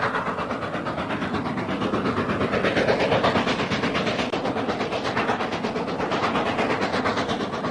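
A British Rail steam locomotive works hard under way, giving a steady, fast, rhythmic chuff and mechanical clatter that stays loud and even throughout, with no voices.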